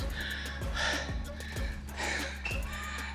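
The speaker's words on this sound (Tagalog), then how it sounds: "Yan ang hingal" Heavy, rhythmic panting after a short bodyweight workout, close and breathy, with quick gasping inhales and exhales repeating about every half second.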